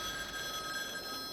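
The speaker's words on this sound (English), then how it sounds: "Landline phone rang loudly, startling each of us." A landline telephone rings loudly in an ongoing indoor ring, with steady bright tones sustained throughout and no voices.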